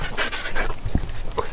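A dog pants rapidly in steady breathy bursts, close and fairly loud, with a brief whimper-like catch partway through, heard indoors in a dim abandoned building during an urban exploration.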